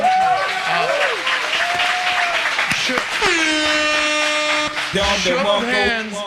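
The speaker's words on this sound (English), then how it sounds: "round of applause for yourself real quick" Studio audience at a live podcast gives a round of applause, steady clapping mixed with a buzzer-like electronic tone and some voices over it, fairly loud throughout.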